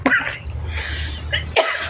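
A few sharp, close coughs in quick succession, harsh and throaty, with a brief pause before the last one.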